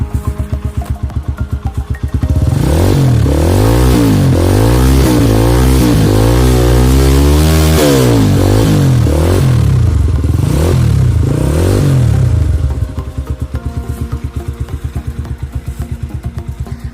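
A Minerva RX150 motorcycle engine idles with a fast, even putter. It is revved hard several times, with rising and falling roars, then drops back to a steady idle. The sound is close, loud and without talking.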